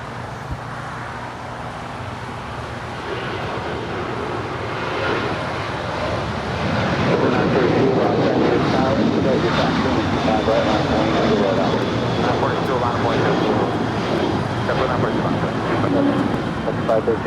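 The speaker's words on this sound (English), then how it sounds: "This is Alaska, 532 departing to Portland, 737-800." An Alaska Airlines Boeing 737-800 departing LAX for Portland roars steadily, its engine noise building and holding loud, with people talking underneath.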